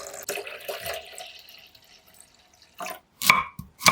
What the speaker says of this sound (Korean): 물을 부어주세요.